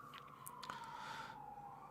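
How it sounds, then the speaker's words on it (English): A faint siren wails in the distance, a steady tone slowly dipping in pitch over a low background hum. "Can you hear the sirens outside, by the way?"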